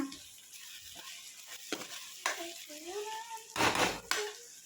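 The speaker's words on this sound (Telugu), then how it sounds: "నేను చికెన్ వేస్తున్నా." Chicken pieces drop into hot gravy for a chicken curry, giving soft bursts of sizzle and spoon scrapes against the pot, with a few short crackling surges near the end, fairly quiet and close.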